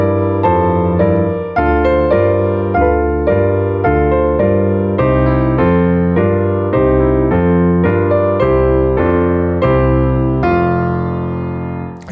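Solo piano playing section B2 of Mussorgsky's Promenade from Pictures at an Exhibition, a steady run of full chords at moderate tempo, close and resonant, with no talking.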